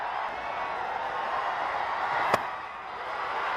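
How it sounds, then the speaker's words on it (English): A loud, lively cricket crowd at West End Park for an India A versus Pakistan A Asia Cup match, a steady roar of distant voices broken by one sharp knock partway through. "There's a vociferous crowd at the West End Park"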